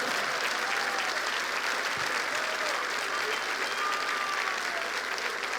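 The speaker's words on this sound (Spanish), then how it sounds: "Cuántale un aplauso a Dios" A church congregation applauds continuously, a dense, even wash of clapping from many hands that holds steady at full strength throughout, with faint voices mixed in.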